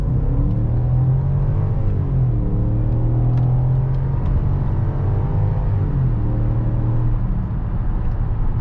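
A deep BMW X5 E53 4.4i V8 engine, remapped to 309 hp, rumbles steadily from inside the SUV on a highway, rising in pitch as it accelerates at full throttle, with a brief shift dip partway through.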